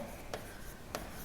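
Chalk or marker strokes on a board during a commerce lecture, two short scratchy bursts about half a second apart over a quiet room.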